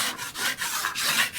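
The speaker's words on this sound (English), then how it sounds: "I'm going to scrape off any high spots" A putty knife scrapes high spots off a filled plaster wall in quick repeated strokes, a rough, rhythmic rasping close up with short gaps between passes.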